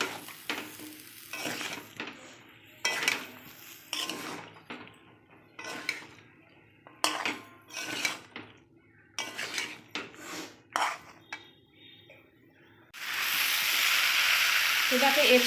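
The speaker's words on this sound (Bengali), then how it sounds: "এবার আমি দিয়ে দেবো সিদ্ধ করা এঁচোড় দিয়ে দিলাম, আবার কষিয়ে নেব" Boiled jackfruit is stir-fried with spice paste for a prawn dish, with repeated scraping and clattering of a utensil against the pan in irregular bursts, then a steady hiss of sizzling toward the end.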